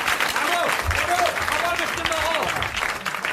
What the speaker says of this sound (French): il a droit à vos applaudissements.